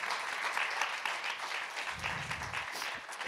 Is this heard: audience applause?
yes